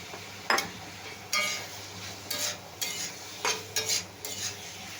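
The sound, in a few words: taro stolons added to frying pan with spices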